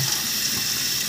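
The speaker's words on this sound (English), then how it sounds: "Shut the water off." Water running steadily from a tap in a sink, a continuous hissing rush at even loudness throughout, used while treating a turtle's swollen shut eyes.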